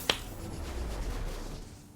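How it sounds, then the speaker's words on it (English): A single loud, sharp hand clap near the start, alone in a quiet room. "Sorry if that clap was really loud."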